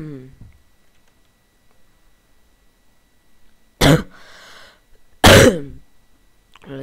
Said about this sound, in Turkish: Öksürük tuttu ben.